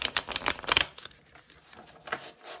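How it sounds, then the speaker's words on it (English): A brand-new, stiff deck of playing cards is riffle shuffled, giving a dense burst of papery flutter and clicking for under a second, then softer card handling and a quieter second riffle close by, with no voices. "Let's see how this riffle shuffles, because it feels a little stiff."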